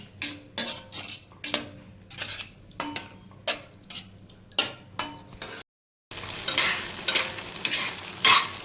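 A utensil scrapes and knocks against a pan while pumpkin halwa is stirred, sharp rhythmic clanks about every half second, loud and close, with a brief dropout.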